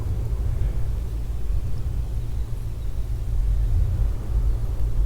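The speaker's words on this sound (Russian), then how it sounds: "Как будто тяжелые грузовики проезжают неровности." A low, steady rumble drifts through a spring forest during a solo river trip, sounding like heavy trucks passing over bumps far off. It swells slightly near the end, with nothing else standing out.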